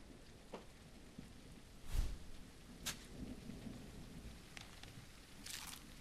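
Rain in the No One Survived video game, a quiet steady patter with a few faint low rumbles and sharp bursts over it, no speech.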